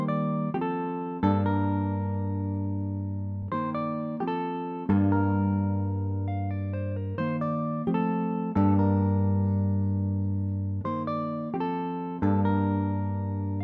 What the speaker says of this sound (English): So, without any effects, the guitar would sound like this.